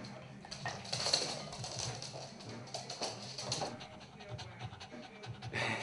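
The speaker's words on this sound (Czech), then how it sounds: "Tady je můj pejsek, Bruno." A pet dog pants quickly and steadily close by inside a flat, with a few clinks of dishes and a person talking over the breathing.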